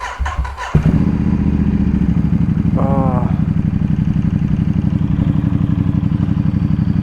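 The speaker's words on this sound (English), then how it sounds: "Every single time I'm starting this motorcycle" A Ducati XDiavel S motorcycle engine cranks briefly, catches and settles into a loud, steady, lumpy idle close by, with a short voice heard over it.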